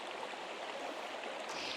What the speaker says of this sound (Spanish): ahora cruzamos este río pequeño